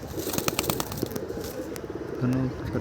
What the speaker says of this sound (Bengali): পাঁচটা কবুতর উঠতেছে